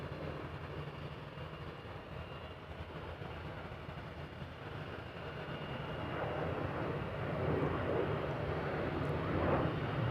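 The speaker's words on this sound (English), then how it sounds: "LL in the meantime to Tel Aviv, taking off in the distance in the background." An airliner bound for Tel Aviv takes off in the distance at Amsterdam Schiphol, its broad jet roar rumbling steadily and swelling louder toward the end, with no talking.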